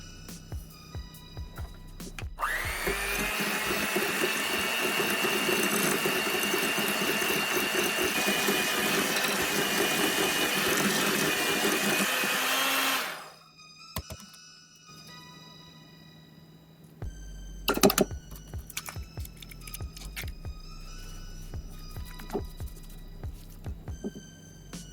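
Stand mixer creaming softened butter and sugar for orange-zest sugar cookies, a loud steady whirring drone for about ten seconds that then cuts off, leaving quieter clatter and a few knocks.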